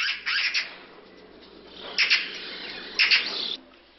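Magpies trapped inside a magpie trap give harsh chattering calls in three loud bursts separated by short pauses, each burst rasping and close.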